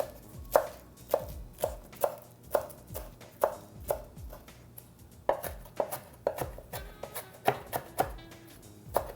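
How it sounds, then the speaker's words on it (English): A knife chops flat leaf parsley finely on a board, with a steady series of crisp, close taps about two per second, some coming in quick pairs. "I want to make sure it's finely chopped."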